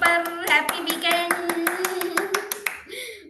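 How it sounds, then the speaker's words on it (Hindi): Participants clap at the end of a scriptwriting class. A steady run of crisp, rapid claps sits under a sustained tonal voice or music, close and fairly loud, and fades out near the end. "तो एक बार जोरदार तालियां बजा दें आज के सेशन की समाप्ति पर।"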